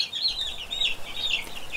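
Chickens clucking and chirping in a farm shed, a continuous chorus of overlapping calls at moderate loudness over a low background hum.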